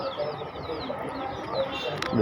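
Native desi chicks cheep and peep in quick overlapping calls, younger chicks squabbling with an older batch, a busy chorus close by, with a hen clucking among them.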